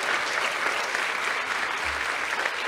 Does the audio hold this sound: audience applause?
yes